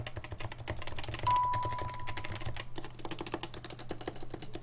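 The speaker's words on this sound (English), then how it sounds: "hear what the default keys sound like right there." Steady typing on a Leopold FC660C keyboard with its default keys, a run of close, crisp keystroke clacks at a fairly even pace, heard alone.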